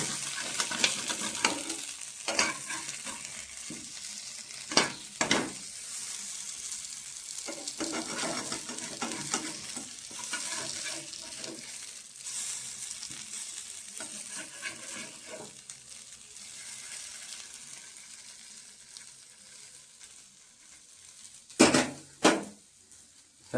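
Mangalore-style tikka sizzles steadily on a hot tawa as it is flipped, with a few sharp metallic scrapes and clinks of a spatula against the pan breaking through the quiet frying hiss.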